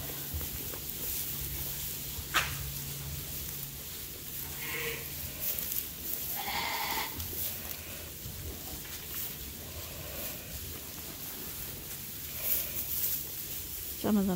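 Lambs and sheep in barn pens on a working sheep farm, several faint bleats scattered through a quiet, rustling background, with a brief loud knock early on.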